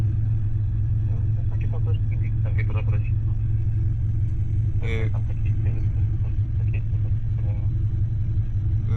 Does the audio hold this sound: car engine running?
yes